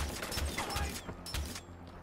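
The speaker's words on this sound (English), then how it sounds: "Here, have some crossbow bolts." Crossbow firing bolts in the video game Far Cry 4, a series of mechanical clacking shots and ratcheting reload sounds in quick rhythm over a dense game soundscape.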